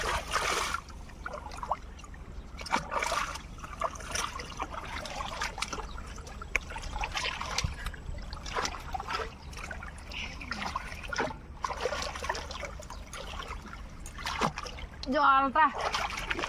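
Tidal water rushes and splashes at the mouth of a sluice channel in the Sundarbans, a continuous close gurgling wash that is louder in places, with people talking over it.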